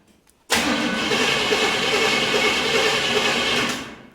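Chevy truck engine after a carburetor refit, failing to catch and then whirring loudly with a steady broadband roar for about three and a half seconds before cutting off abruptly, close and alone.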